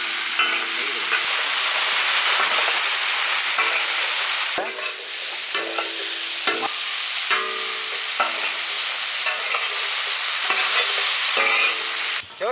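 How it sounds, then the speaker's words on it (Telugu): Pre-roasted prawns stir-fried in a pan with chili sauce, vinegar and soy sauce for Andhra village-style chilli prawns, a loud close sizzle punctuated by repeated sharp spatula scrapes and tosses, no speech. "ముందుగా రోస్ట్ చేసుకున్న ప్రాన్స్ వేద్దాం."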